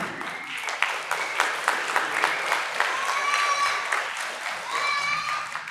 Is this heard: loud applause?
yes